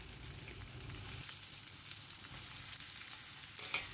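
Ridge gourd slices fry in hot mustard oil over a high gas flame, giving a steady, close, dense sizzle with faint stirring scrapes and no voices.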